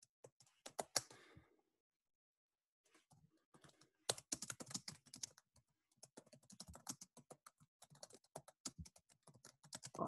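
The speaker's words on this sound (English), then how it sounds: "I hear your keyboard." Typing on a computer keyboard, quick bursts of soft key clicks with short pauses, faint and picked up through a call microphone.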